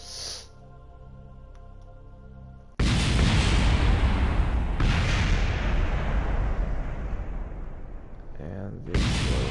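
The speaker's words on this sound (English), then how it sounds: "And the explosion has occurred." A loud explosion in the Kerbal Space Program game, a sudden booming blast that cuts off a steady tonal hum and roars on for several seconds, with a second burst near the end and someone speaking around it.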